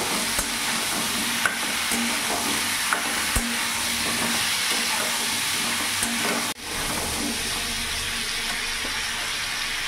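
Pumpkin frying with turmeric and cumin powder in a frying pan, stirred continuously with a loud, close, even sizzle and occasional spatula knocks, one sharp scrape breaking the sound midway, no talking.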